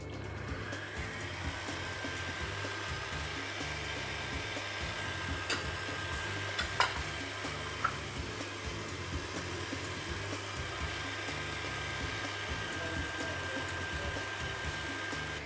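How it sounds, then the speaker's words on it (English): An electric mixer with a whisk attachment runs at maximum speed whipping meringue, giving a steady, fairly faint whirring drone with a few small clicks throughout. "inseriamo la frusta e andiamo a montare a velocità massima"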